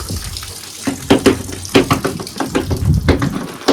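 Water splashes and runs steadily while mussels are rinsed, with irregular sloshing bursts and clattering of shells, close by and fairly loud, no talking.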